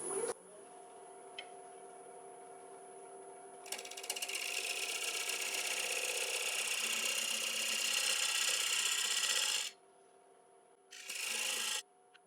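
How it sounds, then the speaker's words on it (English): A scraper cuts across a split oak platter spinning on a wood lathe, a steady rasping scrape over the motor's hum that grows louder mid-pass, drops off, then returns briefly. "So I'll just refine it a little bit with my scraper"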